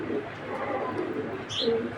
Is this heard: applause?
no